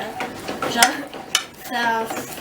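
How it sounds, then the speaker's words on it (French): A utensil scrapes and clinks against a bowl while an egg is stirred into warm chocolate cake batter, a few sharp taps among softer swirling strokes, close by, with someone speaking briefly. "Il faut bien mélanger pour pas que l'œuf ne cuise."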